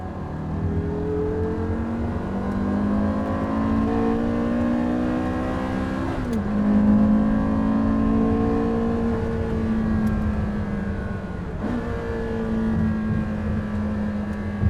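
Porsche Carrera GT engine accelerating on the road, a loud, near V10 wail rising steadily through the gears with two sharp shift breaks and continued climbing pitch, no talk over it.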